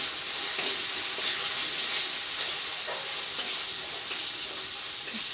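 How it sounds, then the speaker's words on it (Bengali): Ground masala spices sizzle in a pan with water for a paneer kofta recipe, a steady bright hiss with small crackles and pops throughout, close and loud with no talking. "মশলাটা ভেজে নেব। জল দিয়ে মশলাটা কষিয়ে দিচ্ছি।"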